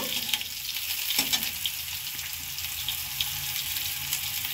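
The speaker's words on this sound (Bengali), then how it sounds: "এখন আমি সয়াবিনগুলোকে ছেড়ে দেবো। সয়াবিনগুলোকে অল্প একটু ভেজে নেব।" Soybean chunks fry in hot oil seasoned with reddened five-spice seeds, a steady, close, loud sizzling hiss that runs throughout with a few soft clinks and stirring touches, and no voices.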